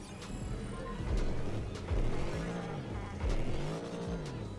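Engine of the Hyperion XP-1 hypercar in a video game, a loud steady drone with repeated rising and falling revs in bursts, alone without talk.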